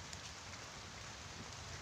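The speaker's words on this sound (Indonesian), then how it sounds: "Hujannya gede." Heavy rain pours down in a dense, steady hiss with no pauses or voices.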